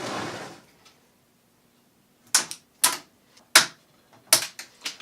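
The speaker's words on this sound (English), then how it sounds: "Now to trim the tag ends." Sharp clipping snaps as tag ends are trimmed on a kayak milk crate setup, five or six crisp cuts spaced irregularly after a brief rustle, close and alone.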